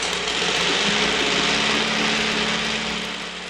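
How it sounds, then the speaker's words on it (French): A Maxwell Rocket reel lawn mower's four-stroke engine runs steadily at a loud, even drone, a continuous buzzing hum with no talk over it. "écoutez ça, mes amis, c'est la tondeuse à moteur Maxwell Rocket à moulinet."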